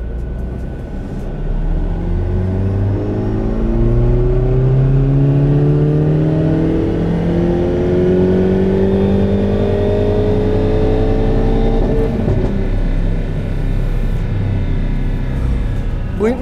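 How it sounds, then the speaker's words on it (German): Hyundai i30N with a stage-3 turbo upgrade pulls hard, its engine drone rising steadily in pitch through the gears while turbocharger whistle rides above, loud and close from inside the car. "Den Lader hört man jetzt mal richtig."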